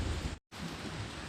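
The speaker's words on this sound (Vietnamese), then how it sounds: "hôm nay trời cũng mưa và lạnh" Steady, dense rain hisses on a cold day, broken by a short moment of silence before resuming.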